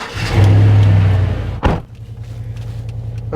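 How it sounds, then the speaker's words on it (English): Truck engine starting: a loud low rumble as it cranks and catches, a sharp clunk, then a steady idle hum that keeps running to the end. "Alright, we turn on the truck."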